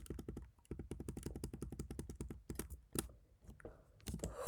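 Rapid, steady clicking of keys on a computer keyboard while typing Python code, close and fairly quiet, with a short pause and a few final taps.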